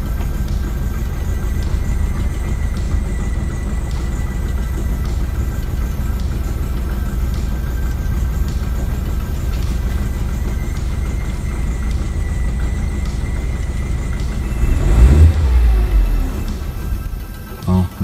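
A Hyundai Accent engine idles steadily after a head gasket repair, running rough with a low continuous hum that swells louder near the end before settling.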